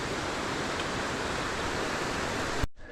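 A creek and small waterfall on an autumn trek to Mount Fitzwilliam, giving a loud, steady broadband rush of falling water heard up close that cuts off abruptly near the end.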